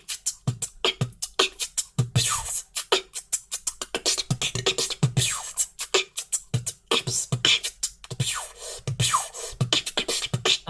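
Beatboxed laser effect built into a beat, the vocal imitation of a sci-fi zap woven between sharp kicks and hi-hat bursts in a steady, close, punchy rhythm.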